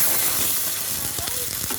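Chicken sautéing with garlic and onion in a hot pan, a steady close sizzle with occasional stirring scrapes, no talking.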